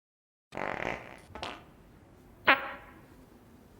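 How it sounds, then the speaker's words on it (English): A short, brassy fart sound effect blurts out during play of the video game Shadowrun Dragonfall: Director's Cut, followed by a smaller sputter and a final sharp squeaky burst, with no one speaking. "that is being replaced by that glorious fart noise"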